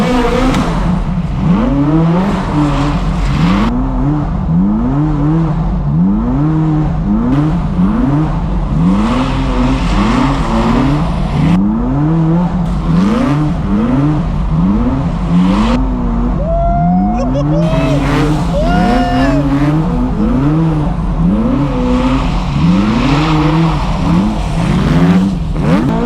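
A Ferrari F40 sports car drives hard with repeated revving and rising, falling engine pitch through gear changes, loud and close throughout, with occasional tire noise and speech over the engine.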